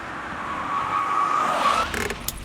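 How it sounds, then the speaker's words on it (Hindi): A car driving up close and slowing to park, a steady engine hum with a faint tire squeal, ending in a few light clunks. "गौतम, गाड़ी पार्क कर दो।"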